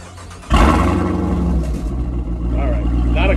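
A Jeep Trackhawk fitted with a Borla Attack exhaust fires up with a sudden loud start around half a second in, then settles into a deep, steady idle and rumble close by.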